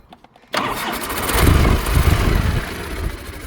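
A 1980 Harley Davidson FLT Tour Glide motorcycle engine starts up close after a few faint clicks, firing abruptly and settling into a loud, rumbling idle.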